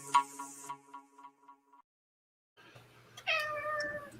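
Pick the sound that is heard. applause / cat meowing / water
cat meowing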